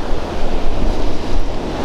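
Sea waves wash onto a beach in Crimea, a steady, close rush of surf with wind noise and no voices.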